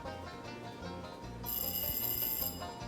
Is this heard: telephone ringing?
yes